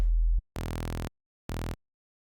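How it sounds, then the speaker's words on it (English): A synth in the Serum software plugin, with its oscillator switched to a sine wave, plays two separate sustained notes. Both are loud and stand alone with gaps between them, after a short low tone at the start. "Let's change this to a sine wave"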